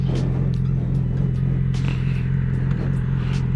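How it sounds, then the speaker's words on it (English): A new 2016 Yamaha R6 sportbike idles steadily with a low, constant engine rumble and faint mechanical clatter, close by and without voices. "it's about time to go for a little test ride on my new Yamaha R6"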